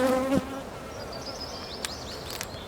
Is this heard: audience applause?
no